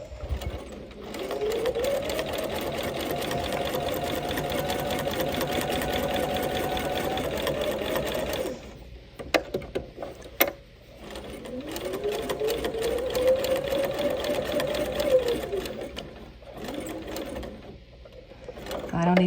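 A sewing machine stitching through quilt binding, running in two long steady whirring stretches with a rising start and a pause between, close and clear, while a person speaks briefly during the gap.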